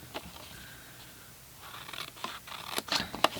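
Paper tabs for a treat box being cut with scissors, a few quiet snips and crisp crunching cuts that grow busier toward the end, close and alone in a quiet room.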